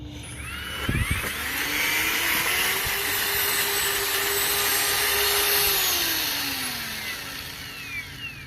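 A Ryobi 18-volt cordless earth auger with a 4 amp battery runs in reverse: a close, loud motor whine that spins up after a click, holds steady for several seconds, then winds down.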